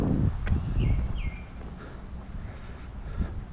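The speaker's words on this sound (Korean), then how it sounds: "새소리." Birds chirp in a quiet parking area at Hyeonchungsa shrine, a few brief, thin calls heard at a distance over soft wind and rustling.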